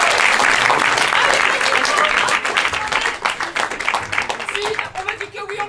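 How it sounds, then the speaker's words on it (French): Loud, dense audience applause fills the room at a live improv theatre show at a Paris improv festival, steady at first and then thinning into scattered claps with voices and whistles breaking through. "Et puis elles vont commencer sous vos applaudissements"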